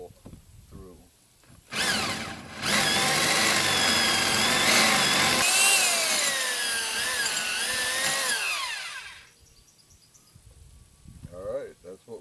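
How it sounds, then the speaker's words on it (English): A corded or cordless power drill in drill mode bores a hole through a hollow concrete block wall, a loud steady whine with rising and falling pitch lasting several seconds, preceded and followed by faint handling noises. "I have my drill set in drill mode, and I'm going to go ahead and drill this hole through"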